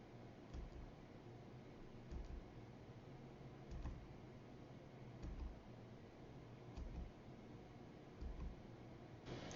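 Enter key pressed repeatedly on a computer keyboard, faint soft clicks recurring roughly every one and a half seconds over a quiet hiss.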